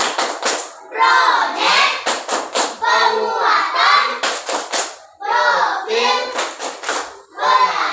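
A classroom of pupils performs the Tepuk P5 clapping chant, rhythmic bursts of group claps alternating with children chanting in unison, loud and close, in a steady patterned beat.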